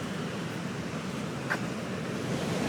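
Sea waves wash onto a British seaside beach in a steady, broad hiss mixed with a little wind buffeting, with no clear individual breaks and no talk.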